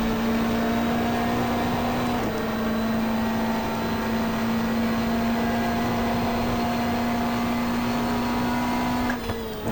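Race car engines in the GTR2 racing game at Pukekohe, passing a Porsche in a 1994 race: a loud sustained engine drone with a steady pitched whine that holds throughout, ending in a brief shift.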